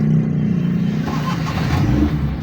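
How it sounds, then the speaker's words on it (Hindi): A car engine runs and revs just after starting: a loud, continuous low mechanical rumble with slight surges in pitch, close by, with no talking. "गाड़ी स्टार्ट हो चुकी है।"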